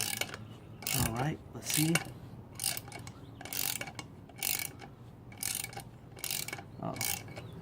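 Ratchet wrench loosening the starter bolt on a GY6 scooter engine, a close, loud run of clicking bursts in steady repeated strokes, with a few brief spoken words near the start.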